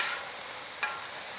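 Beef fajitas fry on a Kamado Joe grill in a soft, steady sizzle, with one brief scrape or stir partway through, close but fairly quiet, and no voices.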